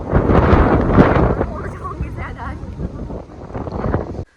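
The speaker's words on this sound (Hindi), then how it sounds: "देखो गाइस इतनी खतरनाक हवा चल रही है भाई साहब" Strong, cold, stormy wind blows in the hills of Pauri Garhwal, buffeting the microphone with loud roaring gusts that ease slightly midway and then cut off abruptly, while someone talks over it.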